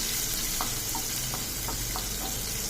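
Dried red chilli and chopped green chillies frying in hot oil while making drumstick leaf fried rice, a steady close sizzle with a few soft stirring clicks and no talking.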